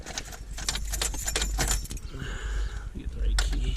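Metal keys jangle and clink while the right car key is picked from a ring, beside a car fitted with an ignition interlock breathalyzer in permanent lockout; the jingling is close and busy, with some speech under it.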